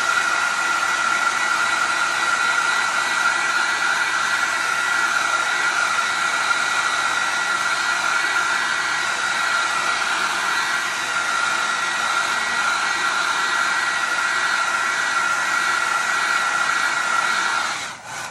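Hair dryer on hot setting, blowing over paint on a tin can, a loud steady close whoosh with a constant whine that runs unbroken and cuts off at the very end.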